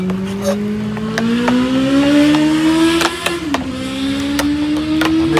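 Car engines hum near a busy roundabout, one vehicle's tone rising steadily as it accelerates and then dipping as it shifts, with faint clicks and ticks scattered over the continuous traffic drone.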